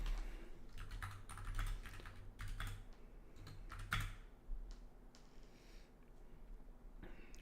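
Quick, irregular clacking of keys on a computer keyboard, close and fairly quiet, in bursts with short pauses.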